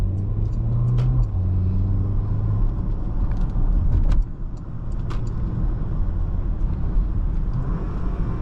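A 2021 Porsche Macan with a PDK gearbox driving on the road, a steady engine rumble and road noise with shifts as the revs change, recorded from inside the cabin.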